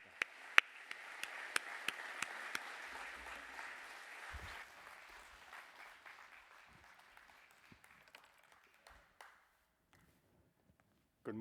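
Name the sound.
church congregation applause welcoming the speaker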